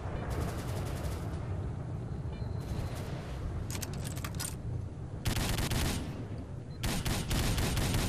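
Bursts of automatic gunfire crackle through a firefight in the video game S.T.A.L.K.E.R.: Call of Pripyat, with repeated volleys and short pauses layered over a steady background din.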